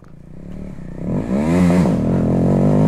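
Motorcycle engine revving hard during a wheelie attempt, rising from a low idle into a loud, sustained high-pitched roar that swells and dips before holding steady, close to the microphone with no talk.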